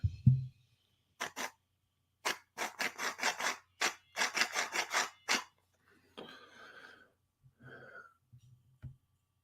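A hand grinder being twisted, producing a series of close, dry rasping bursts in quick irregular succession, followed by quieter voices speaking.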